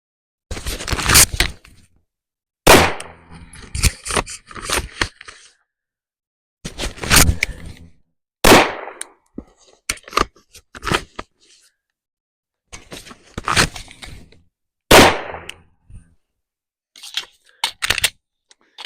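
Live handgun fire at an outdoor shooting range, sharp loud shots in irregular bursts of two to four with short pauses between groups, nearby and dry, no talking.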